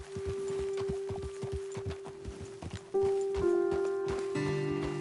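Horse hooves walking in Red Dead Redemption 2, a soft uneven clip-clop of steps close by, joined partway through by louder tonal game sounds and music.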